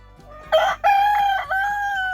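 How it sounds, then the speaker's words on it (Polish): A Silkie rooster crows loudly and close, a strained, drawn-out call with a sharp break partway through, over a steady low hum. "Leon to oczywiście ten kogut Silki."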